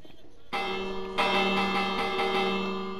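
A bell rings in the video game Minecraft, a bright sustained tone that swells in, then strikes again more loudly about a second later and rings on steadily without fading.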